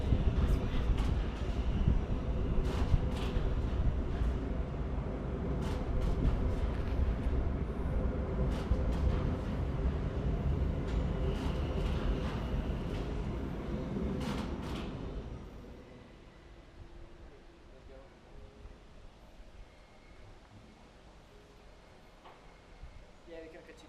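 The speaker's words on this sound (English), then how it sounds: "Should we let the train pass?" A train rumbles past outdoors with a steady broad roar and scattered clanks for about fifteen seconds before fading to quieter background; a voice talks faintly beneath it.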